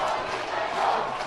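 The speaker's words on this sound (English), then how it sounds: "A cheer battle going on in the stands. Both fans finding their voice." Rugby supporters at a Sri Lankan schools match roar back and forth in a cheer battle from the stands, a dense, steady wall of crowd shouting and chanting throughout.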